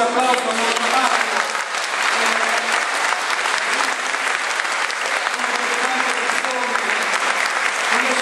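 Loud, sustained applause from a full audience at a New Year's Day concert in Licusati, a dense, steady roar of clapping that holds without a break from start to finish.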